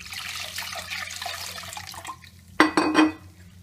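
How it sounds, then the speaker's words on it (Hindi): Water poured into a bowl of maida batter for papad, a soft trickle at first, then a sharp clink of the vessel and a short, loud splashing pour near the end. "अब हम इसमें थोड़ा पानी और डालेंगे।"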